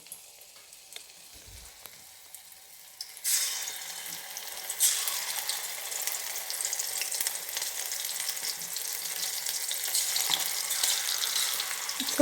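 Squid kabab pieces dropped into hot oil in a pan, with quiet handling at first, then a sudden loud sizzle that settles into steady, crackling frying close by.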